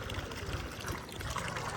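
Water pours steadily into a metal basin set out for birds to drink from, a continuous splashing gush that stays close and even throughout.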